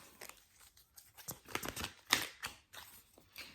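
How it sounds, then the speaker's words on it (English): Oversized tarot cards being shuffled by hand make crisp, irregular riffling and slapping bursts close by, with brief papery flicks between them. "These cards are so hard to shuffle because they're absolutely massive."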